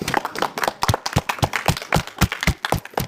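A small audience claps steadily, a lively patter of hand claps without voices.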